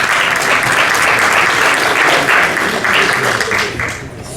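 A conference audience at Droidcon Lisbon 2019 breaks into steady, full applause for a speaker, with dense clapping holding loud and even throughout before easing slightly at the close.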